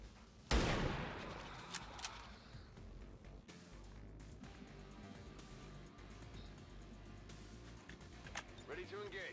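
A single loud gunshot in XCOM 2 fired at a sectoid, a sharp close crack with a short ringing tail, followed by quieter game ambience, mechanical clicks and faint further sounds.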